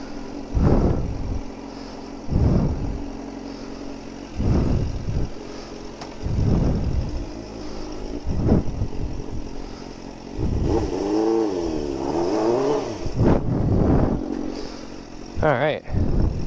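A motorcycle fitted with a titanium exhaust runs nearby, its engine rising and falling in a rhythmic series of revs and pulses, with a voice speaking briefly over it.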